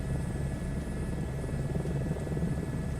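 A helicopter rotor and engine in the Microsoft Flight Simulator video game give a steady, loud, low drone with a faint high whine held throughout, with no talk over it.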